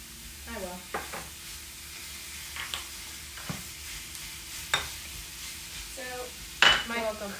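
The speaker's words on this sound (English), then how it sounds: "meat in now and start to brown that" Taco meat browns in a pan with a soft, steady sizzle under intermittent stirring scrapes and clinks of a utensil against the pan.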